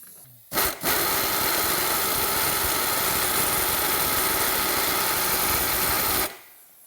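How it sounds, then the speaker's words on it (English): An air wrench spins an oil pump primer inside a hot rod engine, a steady loud whirring drone lasting about six seconds after a brief start-up blip. "So I'm going to go ahead and drop that thing in there and spin it up."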